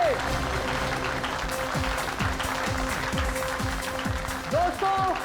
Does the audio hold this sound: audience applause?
yes